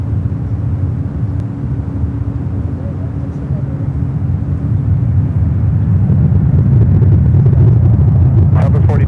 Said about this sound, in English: British Airways A380 about to fly over our head here at Bayfront.